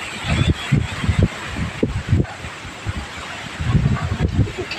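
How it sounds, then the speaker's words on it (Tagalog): Wind buffets the microphone in rough, uneven gusts, with low rumbling bursts rising and falling throughout and faint voices underneath. "Grabe ka hangin niyo."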